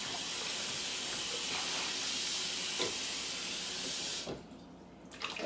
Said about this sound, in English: So I need to rinse my blender first.